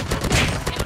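Gunfire from the video game Call of Duty, including a sniper rifle shot, comes as dense, loud bursts of shots packed into under a second.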